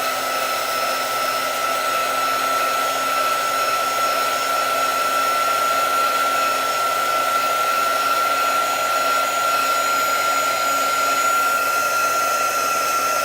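A hair dryer blows steadily to dry chalk paste on a surface after a silkscreen transfer, a continuous close, loud whirring hiss with a constant motor whine and no pauses.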